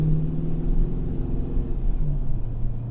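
A 5.7 HEMI Chrysler 300 fitted with an 87mm ported throttle body idles nearby, giving a steady, low, even rumble with slight pulsing and no revving.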